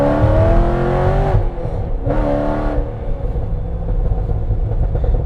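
A 700 HP C6 Corvette Z06 pulls hard off the line, its engine droning loud and close with rising pitch, a brief dip near the shift, then sustained roar to the end.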